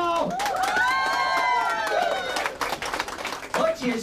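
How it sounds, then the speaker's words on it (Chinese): An audience at a township office ceremony claps and cheers loudly and continuously, a dense wash of applause and excited voices, with a host's voice speaking over it. "掌声加尖叫。"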